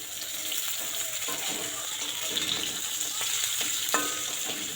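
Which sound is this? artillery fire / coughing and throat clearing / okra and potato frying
okra and potato frying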